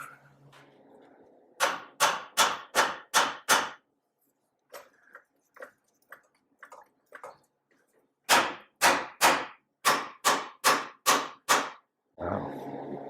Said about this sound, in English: Need a hammer, get that moved a little bit.